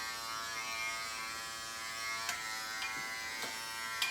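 An Andis Essential electric hair clipper hums in a quiet, steady buzz while cutting hair, with a few faint clicks and brushing ticks toward the end and no talking.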